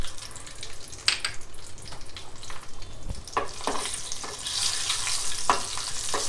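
Dried red chilies frying in hot oil in a pan, giving a steady close sizzle with a few sharp clatters and stirring knocks, no voices.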